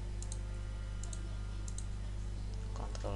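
Keyboard shortcut presses on a computer during a PowerPoint session, a few light close clicks in quick pairs over a steady low hum, with no talking.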